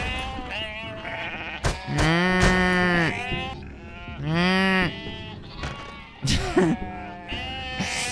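Sheep in a video game bleat loudly and repeatedly, several drawn-out wavering calls overlapping one another close up, with a voice talking briefly between them.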